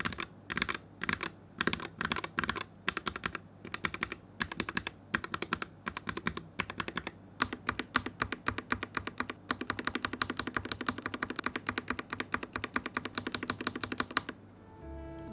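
Typing on a modified Noir N2 mechanical keyboard, a steady run of close, crisp keystroke clacks in quick irregular bursts, continuing alone for about fifteen seconds before stopping.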